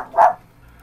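A single short bark from a dog indoors, close and fairly loud, followed by quiet room tone.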